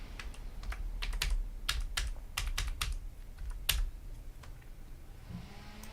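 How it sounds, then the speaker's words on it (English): Someone types a password on a computer keyboard: a quick, irregular run of sharp, close key clicks in small bursts, with quiet gaps between them and no talking. "I don't know if I'm typing my password properly."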